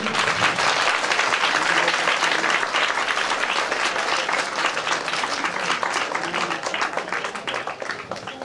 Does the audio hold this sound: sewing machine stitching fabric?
no